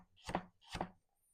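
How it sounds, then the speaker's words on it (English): A knife chops carrots into half-inch pieces on a board, two crisp, close cuts spaced about half a second apart, then quiet. "Now we're going to go with our carrots. We're going to cut these about 1/2 inch pieces."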